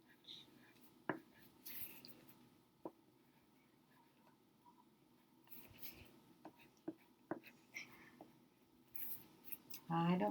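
A pen scratches on paper in a quiet room during a writing assignment, with soft, intermittent strokes and small taps. Faint whispered speech comes and goes.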